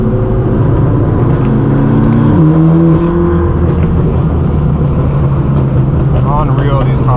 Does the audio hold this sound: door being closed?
no